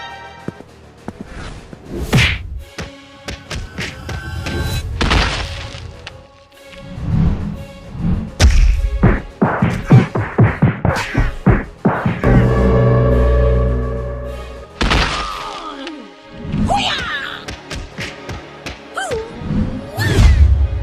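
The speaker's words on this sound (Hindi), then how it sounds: "आलिया एक जोरदार किक मारती है" Cinematic fight effects from a dramatized struggle: a series of sharp smashes, thwacks, thuds and whooshes in quick, irregular bursts, loud and close, with a powerful kick landing amid the scuffle.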